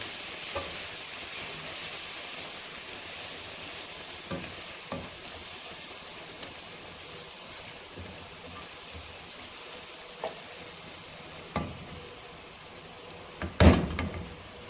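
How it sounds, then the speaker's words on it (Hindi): Okra and spices stirred in a hot frying pan, with a soft steady sizzle running underneath and occasional scrapes and clinks of the utensil, one louder knock near the end, and no voices. "अभी इसको और मसाले को अच्छी तरह मिक्स कर दें।"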